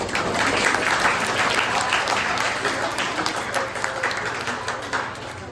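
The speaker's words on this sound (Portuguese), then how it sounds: "uma salva de palmas para ela" Applause welcoming the final guest, Marilu Cardoso, arriving at a morning history event: dense, steady clapping from a crowd, loud and sustained throughout, easing slightly toward the end.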